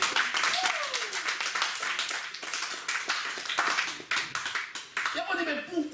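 A church congregation clapping in a fast, steady rhythm, with dense hand claps filling the room while a preacher's voice carries over them.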